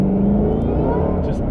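Shelby GT500 accelerating hard in second gear with its tires spinning, a loud, steady engine roar heard from inside the car.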